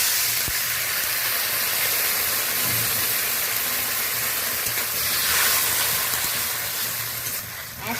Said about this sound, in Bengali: আমি জল দিয়ে দিলাম যাতে তলাতে না ধরে যায় বা পুড়ে যায়